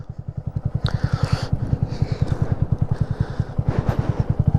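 A Honda Grom motorcycle rides over an icy road, its small single-cylinder engine putting out a steady, rapid pulsing close by, with scraping and clattering noises over the top.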